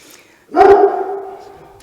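A single loud dog bark that trails into a drawn-out whine or howl, close by, with no other sounds around it.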